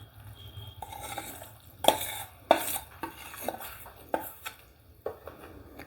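A spoon stirs ghee and jaggery through a crumbly churma laddu mixture in a pot, with irregular scraping and sharp clinks against the metal at a moderate level and no speech.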